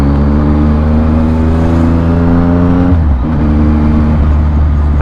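A Yamaha XSR 900 motorcycle engine pulls hard while riding, a loud, close, strongly harmonic drone that climbs in pitch, dips briefly near the three-second mark as if shifting or easing off, then resumes its steady snarl.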